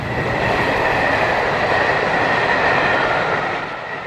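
A British Rail Class 40 diesel locomotive hauls a mixed freight train including empty wagons near Goswick in 1974, a loud, steady rumble of engine and rolling wagons that eases slightly at the end.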